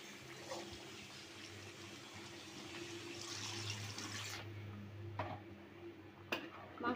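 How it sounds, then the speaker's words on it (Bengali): Broth poured into a pot of cooking beef curry makes a faint, steady liquid trickle and splash that fades out, followed by a couple of light clinks. "এখন দিয়ে দেব ঝোল।"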